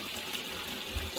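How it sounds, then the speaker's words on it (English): Water pouring into a container to cover a turkey in brine, a steady, soft rushing flow heard close. "we're just going to add enough water because we want that turkey to be fully covered"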